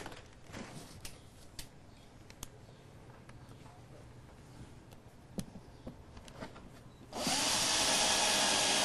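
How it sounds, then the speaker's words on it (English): Scattered ticks and taps over a low hum, then a power drill with a Phillips bit whirs loudly and continuously for the last couple of seconds, driving screws into a wicking basket. "we need to change the drill bit to a Phillips head"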